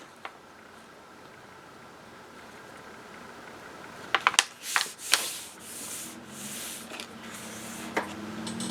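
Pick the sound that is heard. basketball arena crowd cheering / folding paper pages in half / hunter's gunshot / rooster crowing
folding paper pages in half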